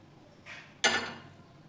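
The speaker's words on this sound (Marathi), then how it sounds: "गरम पाणी पण टाकून घेऊ." Hot water is poured into maize flour mixed with chopped chili paste, salt and turmeric for makki paratha dough: a short soft trickle, then a louder splashing pour that fades over about a second, close by, with no talk.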